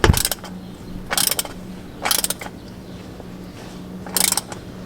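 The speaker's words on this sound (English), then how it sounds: "we're just going to give it a little bump with the oil filter wrench" An oil filter wrench on a 2020 Mahindra Roxor ratchets in four short, loud bursts of clicking, spaced about a second apart, with a low mechanical hum between them.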